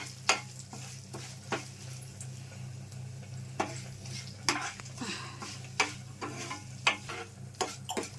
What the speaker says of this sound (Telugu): మాడకుండా దగ్గరుండి సిమ్లో పెట్టి వేయించుకోవాలండి.